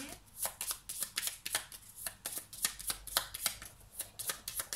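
Playing cards being shuffled for a tarot-style card reading, a close, crisp run of quick riffling flutters repeating in steady bursts, with no talking over them.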